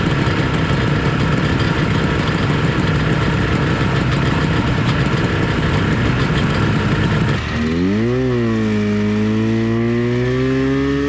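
A vintage snowmobile engine drones loud and close on a group trail ride, a dense steady roar that drops into a lower, wavering idle near the end, with no speech.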